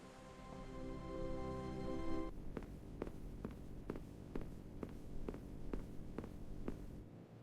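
A steady low airplane engine hum with a faint whine, heard from inside the cabin, joined by regular soft thumps at about one per second.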